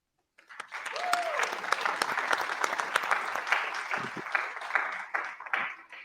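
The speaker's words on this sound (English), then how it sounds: "I want to give a chance for everyone to do a round of applause" Applause from an in-person audience at a metaverse investing talk starts abruptly after a brief silence and swells into dense, steady clapping, with a faint voice briefly rising over it early on.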